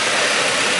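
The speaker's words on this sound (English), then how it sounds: "Okay, now engine is running and we run it about 1 minute" Honda CR-V engine idles right after an oil change, a steady close broadband hum with no change in rhythm over a brief moment.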